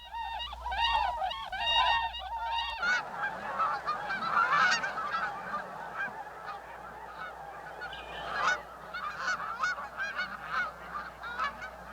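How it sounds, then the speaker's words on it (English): Whistling swans calling in a wintering flock, a steady chorus of hoarse honking and whooping notes overlapping near and far, with a low hum underneath and no talking. "That's a whistling swan."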